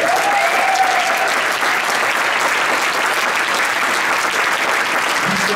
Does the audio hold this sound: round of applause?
yes